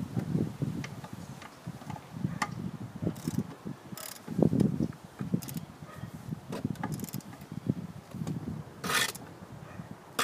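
A ratchet wrench with a five-eighth socket turns a fastener on a 2017 Troy-Bilt TB 110 riding mower, giving up-close mechanical clicking in short uneven bursts with brief pauses between them.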